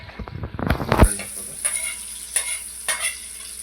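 Spatula stirring masala, chili and turmeric into an egg dish frying in a pan, a burst of scraping and clattering strokes followed by steady sizzling with periodic scrapes, close by.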